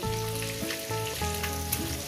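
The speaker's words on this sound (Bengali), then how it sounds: "ডিমগুলো আমার ভাজা হয়ে গেছে, আমি এগুলো তুলে নেব।" Eggs fry in hot oil for an egg curry, giving a steady, close sizzling hiss that runs without a break over a tonal, music-like backdrop.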